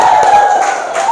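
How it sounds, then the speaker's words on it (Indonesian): A classroom of students cheers and claps for a presenting student group, a loud, close burst of shouting and whoops dominating the short moment. "Tepuk tangan untuk kelompok"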